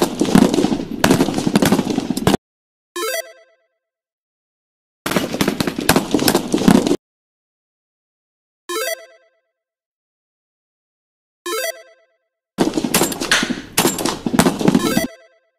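Troops opening fire at will in a war battle: bursts of rapid automatic gunfire alternate with short isolated shots separated by silence, loud and close, with no talking.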